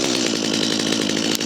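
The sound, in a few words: chainsaw started on half choke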